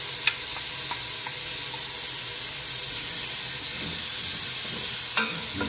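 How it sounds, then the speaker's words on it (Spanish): Onions fry in a pan while being stirred, a continuous loud sizzle and hiss with a few soft scrapes and taps of the utensil, no talking. "Y removemos mientras va friendo."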